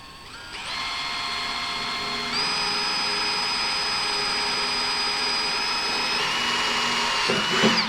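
A power drill boring pilot holes in the sheet-metal wall of a Harbor Freight parts washer, a steady high whine that rises in pitch partway through and holds for several seconds before spinning down.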